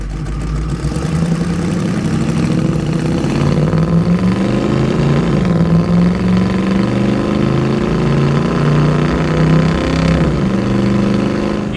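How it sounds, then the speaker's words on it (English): A 1967 Chevrolet Camaro SS convertible with a fuel-injected 350 V8 and automatic transmission drives steadily, its loud engine droning and rising in pitch as it accelerates, with no talking. "This is a 1967 Chevrolet Camaro SS convertible."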